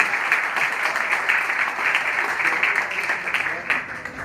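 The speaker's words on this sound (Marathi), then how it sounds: "जोरदार टाळ्या माझ्यासाठी." Applause from a college audience at a road safety awareness session, many hands clapping in a continuous, fairly loud wash with slight swells, some voices mixed in underneath.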